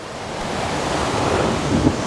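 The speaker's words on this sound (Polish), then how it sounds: "co chwila idą naprawdę gigantyczne fale" Large storm waves crash and surge against the old town of Dubrovnik, a continuous loud roar of surf mixed with wind buffeting the microphone and no voices.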